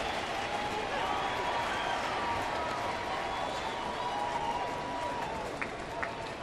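Broadband roar of a baseball stadium crowd during a Cubs at Cardinals game, a steady wash of cheering and murmur with a commentator talking over it.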